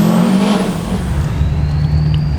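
A Stealth Series turbo on a Duramax pickup whistles in a steady high tone over a loud, close diesel rumble, the pitch sliding slightly as the engine runs.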